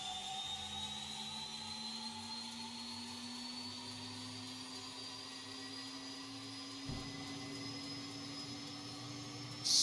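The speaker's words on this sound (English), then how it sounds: "you hear the engine whine up and then go into full and then the blade spins" A C90 King Air turboprop engine in X-Plane 12 spins up with a steady rising whine that climbs in pitch, accompanied by a continuous turbine roar and a sharp jump in loudness at the end.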